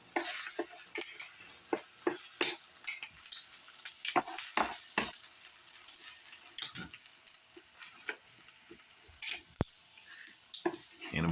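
Beaten egg cooking on a griddle gives a crackling sizzle, broken by frequent sharp spatula taps and scrapes in an irregular rhythm. The sounds are close and moderately loud, with no speech.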